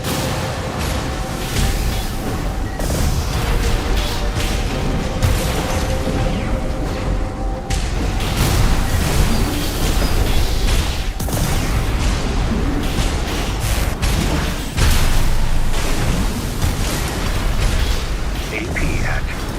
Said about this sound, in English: Let me just get used to these missiles.